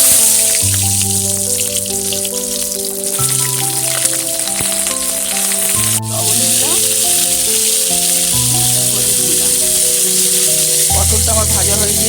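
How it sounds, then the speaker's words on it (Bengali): Pointed gourd fries in hot oil in a wok, giving a steady bright sizzle that runs the whole time beneath louder melodic background music. "পটলটা এবারে ভেজে নেব"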